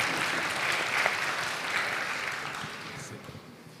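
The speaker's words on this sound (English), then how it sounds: "Here, applause for the running microphone." An audience at a live-streamed QA conference bursts into applause, a dense wash of clapping that starts strong and gradually fades over a few seconds.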